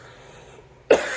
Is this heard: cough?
yes